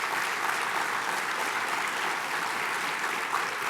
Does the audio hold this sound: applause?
yes